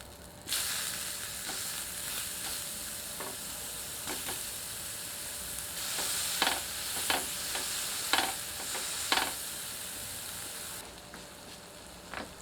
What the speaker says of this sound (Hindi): इसको अच्छी तरह से ग्रिल करते हैं।